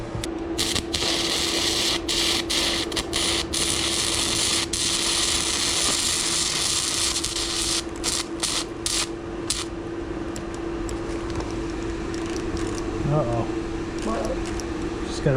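Budget Amazon wire-feed welder feeding wire and welding: a steady loud buzzing hum runs throughout, broken by sharp crackling bursts and clicks, with a brief voice near the end.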